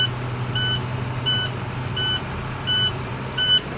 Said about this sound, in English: I'm gonna wait a moment for the buzzer to go off so you can hear me